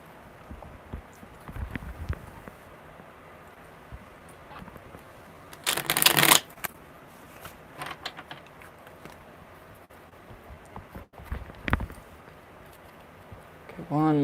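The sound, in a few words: shuffling tarot cards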